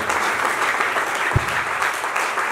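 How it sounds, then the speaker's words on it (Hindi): An audience at a direct-selling leadership gathering in India claps for a guest, a brief burst of full, even applause filling the room with no speech. "तो सर के लिए एक जोरदार तालियां दोस्तों,"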